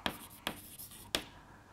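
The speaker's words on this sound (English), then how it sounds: "Let me write it here, Rodriguez." Chalk or marker strokes on a board during a physics lecture on the harmonic oscillator, three sharp taps and scrapes spaced over under two seconds, fairly close and quiet with no talk.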